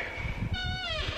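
A house cat gives a single drawn-out meow, rising and then falling, close by in a quiet room with faint low background rumble.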